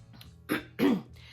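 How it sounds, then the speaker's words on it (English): A person clears their throat twice in quick succession, close and fairly soft, with a short pause between the rasps. "Excuse me if I have to clear my throat."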